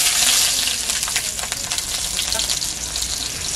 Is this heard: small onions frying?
yes